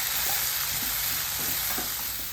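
Chopped large tomatoes tipped into a hot frying pan for a green peas curry, with steady broadband sizzling and a few soft stirring scrapes, close and continuous with no talking.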